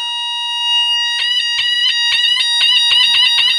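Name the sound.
high-pitched tone from a Znatok kit sound generator circuit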